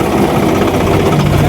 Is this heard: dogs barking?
no